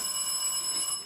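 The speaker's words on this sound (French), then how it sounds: "Excusez-moi, c'est le téléphone." A telephone in the front hallway of a house rings steadily, the bright electronic tone sounding alone at moderate level with no talk.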